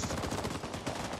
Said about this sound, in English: AC-47 and they're shooting at us.